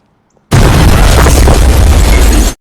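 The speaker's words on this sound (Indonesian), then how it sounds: "mobil itu pun meledak hingga hancur di depan mata mereka" A car blows up in a scene from the action film Rush Hour 3, one loud sudden blast that stays at full roar for about two seconds and then cuts off.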